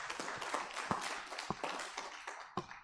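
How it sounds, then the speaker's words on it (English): Participants at a formal legal rules validation workshop give a faint, somewhat distant round of hand clapping, with a few sharper individual claps standing out over the continuous patter. "I will request that we also give my Lord Chair a mighty hand clap."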